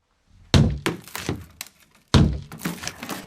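In a Korean film scene, a man tears open a ceiling with loud, close cracking and breaking thuds, two heavy hits followed by splintering clatter and debris falling in irregular bursts, with no speech.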